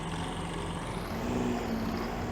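An old Kubota small tractor, about the size of a lawn tractor, runs its engine loud and steady while pulling a harvester header, a constant drone close by.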